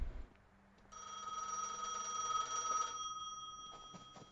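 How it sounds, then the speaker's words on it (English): A telephone rings in the Gas Station Simulator video game, a steady electronic bell tone that holds for a couple of seconds and then cuts off, followed by faint clicks. "Answer the phone call."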